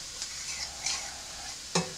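Goulash ingredients fry in a pan with a soft steady sizzle and a few light stirring scrapes, ending on one sharper clack of a utensil.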